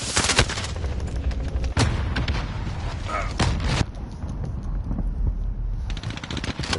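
Rapid, loud gunfire crackles through a tactical team shooter game, with dense automatic bursts and sharp single shots in close succession, filling the whole stretch with no speech.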